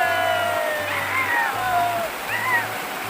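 River water flowing steadily around someone standing in the middle of the river at the Ukiam picnic place on the Assam–Meghalaya border, a constant rushing bed under a voice that rises and falls.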